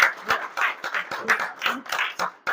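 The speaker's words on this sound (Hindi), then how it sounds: "एक बार जोरदार ताली होनी चाहिए" Audience applause at a marketing plan seminar in Aklera, a dense patter of many hands clapping that swells and dips in uneven bursts, fairly close and continuous with no voice over it.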